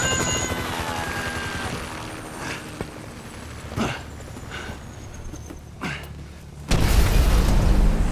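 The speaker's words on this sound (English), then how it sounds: "Can you hear that? Chopper! Incoming!" A helicopter approaches in the Grand Theft Auto 5 video game, its steady rotor drone running under game noise with dull booms and shots, before a louder burst near the end.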